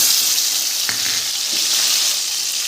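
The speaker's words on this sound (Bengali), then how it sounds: "তেল গরম হয়ে গেছে, কালো জিরেটা দিয়ে দেব, দিয়ে ওপর দিয়ে রসুনটা দিয়ে দেব" Nigella seeds and garlic fry in hot oil for a Bengali dried-fish bharta, giving a loud, continuous close-up sizzle with a few soft stirring knocks.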